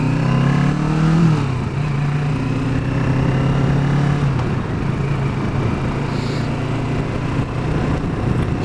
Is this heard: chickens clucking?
no